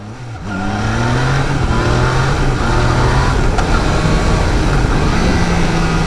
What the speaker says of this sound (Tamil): இன்ஜின் பிரேக்கிங் பண்ணி பார்ப்போம்